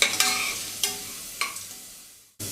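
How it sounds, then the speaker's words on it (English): Channa dal roasting in desi ghee for payasam, stirred in the pan with a few spaced scraping strokes over a soft, steady sizzle, close and clear before an abrupt cut. "Try not to skip this roasting of the Channa Dal in desi ghee."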